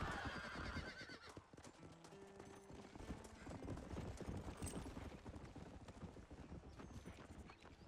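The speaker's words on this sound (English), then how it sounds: "We can use the horse and let it carry us" Horse hooves clip-clop steadily in the Red Dead video game, with a neigh mixed into dense, continuous game sound and no talking.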